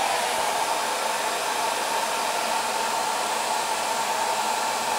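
An ion 4-in-1 Autowrap Airstyler blows air on its lowest heat setting, a steady close whooshing hiss that stays loud and even throughout with no talking.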